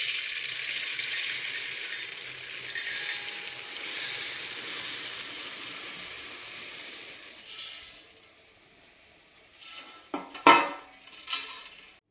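Dry puffed rice (mandakki) poured into a vessel in a home kitchen, giving a steady rustling hiss for several seconds, followed near the end by a few sharper clinks and knocks of the pot.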